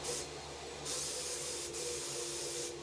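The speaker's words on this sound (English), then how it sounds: "I'm now going to spray a high-quality flat black paint on the speaker baffles of each of the cabinets." Flat black spray paint hissing from an aerosol can onto the baffles of Pioneer HPM-100 speaker cabinets, in three steady bursts with brief pauses between them, close and alone.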